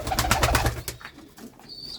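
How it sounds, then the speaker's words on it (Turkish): Pigeons coo in soft, repeated low pulses inside a pigeon coop holding about fifty birds, several close by, with some light rustling and a faint higher tone near the end. "50 tane güvercin var burada."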